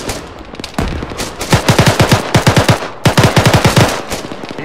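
Loud, close gunfire in the military shooter game Arma 3 rips out in rapid automatic bursts of sharp shots, two main volleys separated by a brief gap.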